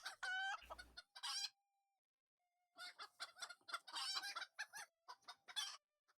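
Chickens in the Lord of the Rings Online video game cluck and squawk in repeated bursts, a loud crowing-like call opening the clip, then busy clucking spread across the rest after a brief pause.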